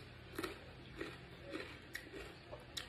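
Crunchy bites of fresh cucumber, a few close, crisp chewing bursts spaced out over a few seconds against a quiet room hum.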